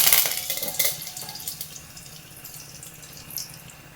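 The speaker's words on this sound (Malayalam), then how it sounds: "എണ്ണ ചൂടായി. നമുക്ക് കുറച്ച് കറിവേപ്പില ഇട്ട് കൊടുക്കാം." Curry leaves dropped into about two tablespoons of hot sesame oil while making banana stem pickle, giving a bright crackling sizzle that bursts loudly at first and then settles into a softer, steady spitting hiss.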